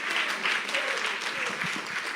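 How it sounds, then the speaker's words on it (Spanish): A church congregation applauds in a brief, steady wash of clapping at moderate distance, with faint voices underneath. "Los que aplaudieron lo creen"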